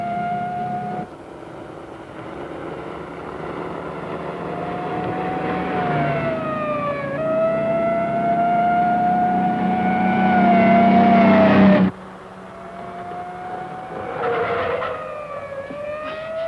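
A police motorcycle siren wails steadily in rising and falling sweeps as it chases a car, loud and close over a low engine rumble, with the tone cutting off abruptly near the end before resuming.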